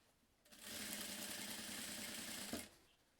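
Sewing machine running steadily for about two seconds while stitching along the edge of a crossbody bag, a continuous close mechanical whir that starts and stops abruptly, with no talking.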